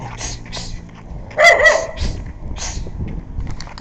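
A single sharp dog bark rings out in the middle, amid faint background chatter and rustling.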